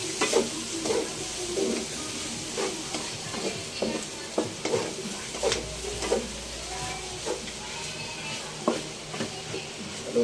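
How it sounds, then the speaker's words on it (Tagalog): Bopis, a chopped offal dish, stirred in a frying pan with steady sizzling and repeated scraping strokes of a utensil, close and moderately loud, with no talking. "So, haluin na po natin yan."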